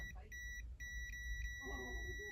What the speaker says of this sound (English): if you get a beep like that, it's good. There's continuity.